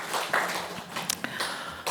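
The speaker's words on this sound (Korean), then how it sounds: "우리 찬양대 위에 우리 축하의 박수, 감사의 박수, 기쁨의 박수 하겠습니다" A church congregation at a Sunday worship service applauding the choir, with a spread-out patter of clapping and a few sharper claps, fairly soft and brief.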